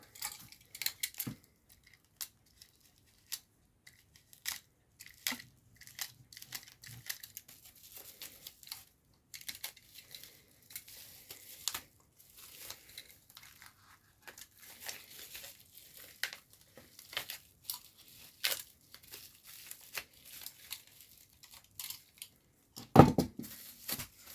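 Someone opens a mail package sealed with black tape that holds graded sports cards. Faint, sporadic plastic crinkling and tearing rustles go on throughout, with a sharper knock near the end.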